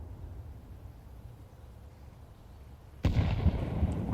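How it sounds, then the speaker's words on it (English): A grenade explodes in Counter-Strike during a professional ESL Pro League match: a sudden loud blast about three seconds in cuts through a low, steady rumble of game ambience. "Oh, that's not where that nade was supposed to go."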